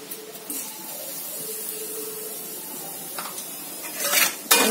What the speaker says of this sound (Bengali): কড়াইয়ে আর অল্প তেল দিয়ে দিলাম,